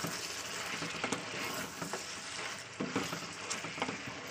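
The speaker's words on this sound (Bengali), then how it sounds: "তো দেখতে পাচ্ছেন টমেটোটা দিয়ে আবার আমি একটু কষিয়ে নেবো।" Chopped tomato sautés in oil for a dish of onion kalia, giving a soft continuous sizzle broken by occasional scraping clicks from stirring, fairly quiet throughout.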